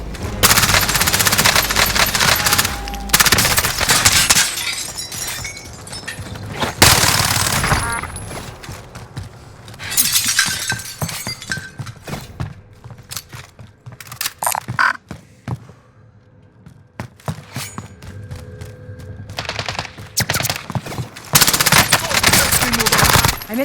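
Machine gun fire in a shooter video game arrives in loud, rapid bursts separated by gaps, mixed with gunshots, mechanical creaks and clatter, varying from close to more distant across the stretch.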